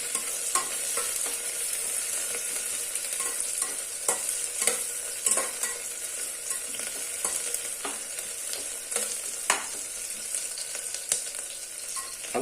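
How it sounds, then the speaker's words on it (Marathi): Onions sautéing in a pan for mutton biryani give a steady, moderately loud sizzle, with scattered stirring scrapes and clinks throughout and no talking. "थोडासा हा कांदा आपल्याला व्यवस्थितपणे परतून घ्यायचा आहे"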